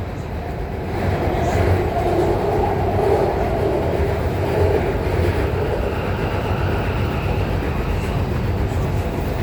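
A Guangzhou Metro Line 5 train runs underground as it arrives at a station, giving a loud, steady rumble and roar of wheels and motor through a tunnel. The sound is continuous, with a faint tonal whine that rises and falls.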